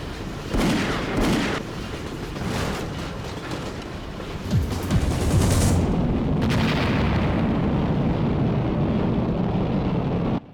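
Booming explosions in the samurai action game Rising Zan: The Samurai Gunman: several heavy blasts in quick succession, then a long rumbling roar that cuts off abruptly.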